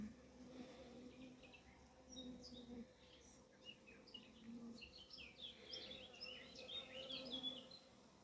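Honeybees buzz in an open hive at an apiary, a close, continuous low hum with individual bees whirring in and out, and faint bird chirps in the background.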